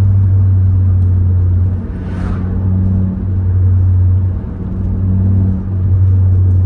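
Tuned Volkswagen car accelerating hard, a loud close engine rumble with a strong low hum that pulses in steady surges, one brief hiss or whoosh partway through, no voices.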